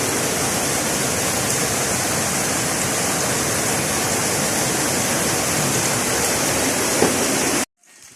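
Heavy rain pours down in a dense, unbroken hiss for several seconds, then cuts off abruptly.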